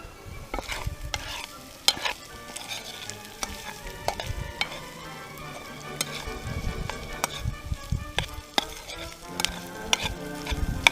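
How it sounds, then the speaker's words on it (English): Corned beef hash frying in a pan over a Dakota fire pit, a steady crackling sizzle with repeated sharp scrapes and clinks of stirring, close and moderately loud, no talking. "I like to fry it up real good though, where the corned beef starts to turn a little brown."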